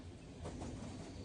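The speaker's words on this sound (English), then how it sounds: "Yes, I'm on the train." A train interior during a ride on a British train, a steady low rumble and broadband rolling noise with faint rail clatter, quiet and continuous with no voices.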